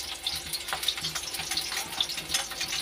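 Curry leaves and onion frying in a pan, giving a steady, soft crackling sizzle with small pops scattered throughout and no voices.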